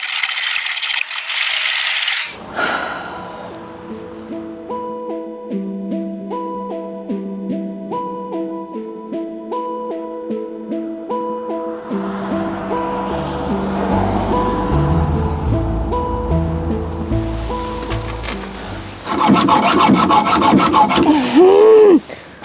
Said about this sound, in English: Power the hacksaw.